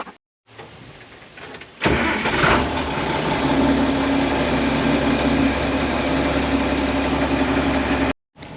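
A Case 1070 tractor pulling a hay baler at second cutting starts up with a short crank and then runs at a steady, loud mid-pitched drone for several seconds before cutting off abruptly.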